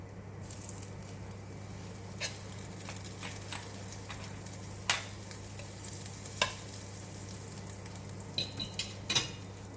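Egg-dipped French toast frying in melted butter for breakfast, a soft steady sizzle close by with scattered pops and a few scraping stirs, no talking.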